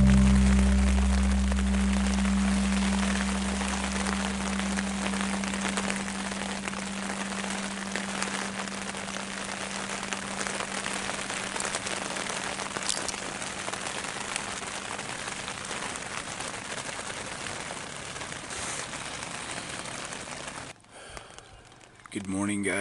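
Steady rain falling outdoors on Antelope Island during a downpour, a dense continuous hiss with low rumble that stays loud and even throughout before briefly dropping away near the end.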